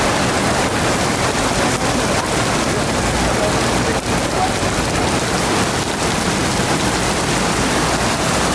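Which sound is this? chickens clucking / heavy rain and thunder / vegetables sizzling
heavy rain and thunder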